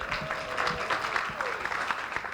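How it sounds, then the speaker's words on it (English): A crowd at a storytelling and civic power panel applauds itself with lively, dense clapping, and a few voices and a sustained whoop ring out above the hands throughout. "Give yourselves a round of applause."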